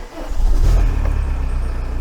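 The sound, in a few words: VW Camper van engine starting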